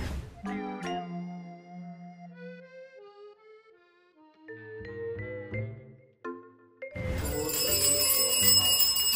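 A bell rung again and again in a home practice session, where a child playing the priest struck it more times than asked; clear ringing tones that sound in short bursts, ending in a louder, denser stretch.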